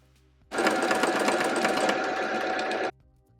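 Sewing machine stitching a buttonhole into fabric, a sudden close whirring rattle of rapid needle strokes running steadily for about two and a half seconds before stopping, with quiet room tone on either side.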